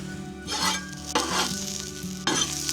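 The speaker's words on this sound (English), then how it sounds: "They're going to cook really fast on the Blackstone." Thin seasoned steaks sizzling on a Blackstone griddle at a campsite, a loud close hiss that swells in waves as the meat is moved and turned, with no talking.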